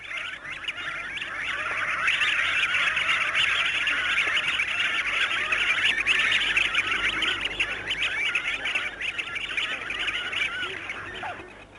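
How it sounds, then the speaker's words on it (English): Pink-eared ducks wheeling about in big flocks over a swamp give a continuous chorus of chirruping, twittering calls, dense and steady throughout at moderate distance. "the chirruping calls of pink-ears as they wheel about in big flocks"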